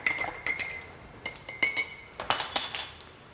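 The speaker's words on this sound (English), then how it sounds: "give it a little stir," A spoon clinks repeatedly against a cup while stirring liquid chicken stock concentrate into boiling water, quick bright tinkling taps in small irregular bursts, close and alone.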